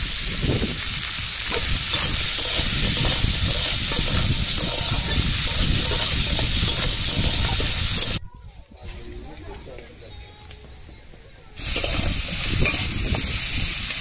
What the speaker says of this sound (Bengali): কাঁকড়াগুলো ভাজা হয়ে গেছে